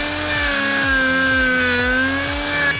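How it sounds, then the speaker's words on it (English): A power router runs along a screwed-down guide, cutting into a deck board with a loud, steady high whine that holds its pitch throughout, close and alone. "screwed down this as a guide for the router so that I can just run this straight along here"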